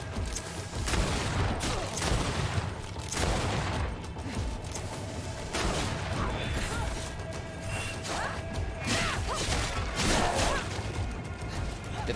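Gunfire in the fantasy action game GreedFall during a combat fight, several heavy cracks spaced irregularly across the passage amid clashing, mechanical clatter and other battle noise.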